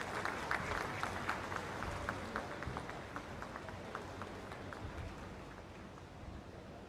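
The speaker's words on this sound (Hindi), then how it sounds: "एक बार जोरदार तालियों के साथ खड़े होकर अपने स्थान पर अभिनंदन वंदन स्वागत" Audience applause at the inauguration of Kushinagar Airport in Uttar Pradesh, welcoming the Prime Minister. A steady, fairly distant wash of many hands clapping continues throughout and fades slightly toward the end.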